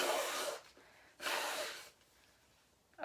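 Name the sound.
blowing nose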